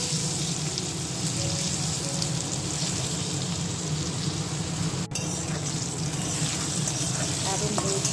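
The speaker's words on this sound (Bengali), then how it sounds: "বেগুন ভাজা তুলে নিয়ে আলু ভেজে নেব" Eggplant slices frying in a pan for a home meal, a steady broadband sizzle of oil running throughout at moderate level, with faint kitchen noises and no clear talk.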